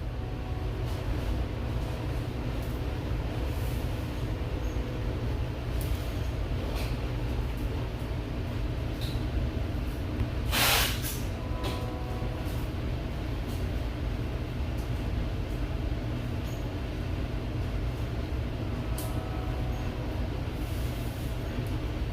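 A train rolls past with a steady low rumble and rattle of railcars, continuous and fairly loud, with a brief brighter hiss or screech midway and no talk.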